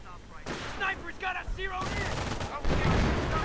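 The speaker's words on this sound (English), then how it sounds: "looks like artillery is being called down somewhere" Battlefield gunfire and artillery fire in a World War II strategy video game, with sharp bursts of shots and booms layered under a commentator's speech throughout the short stretch.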